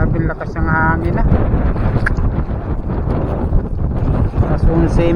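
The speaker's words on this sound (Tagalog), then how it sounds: "Grabe lakas ng hangin na." Strong wind gusts across the open sea during a fishing trip, a loud, steady buffeting roar that thuds against the microphone. Someone talks over the wind.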